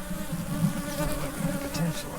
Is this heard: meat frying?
no